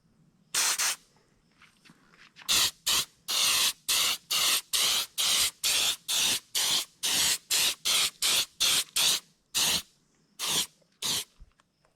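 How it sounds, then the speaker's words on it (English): Two-part automotive gloss coat sprayed onto a replica largemouth bass: an isolated hiss, then a long run of short, evenly spaced spray bursts of about half a second each, with brief silent gaps between them. "I use a two-part automotive. I put the first flash coat on very thin."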